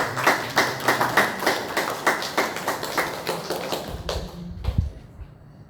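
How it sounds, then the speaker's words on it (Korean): A church congregation at a Sunday service claps in a rhythmic, evenly spaced unison beat, loud and near, before the clapping breaks off into a few scattered claps and a low thump. "우리 다 같이 우리 감사의 또 경례의 박수를"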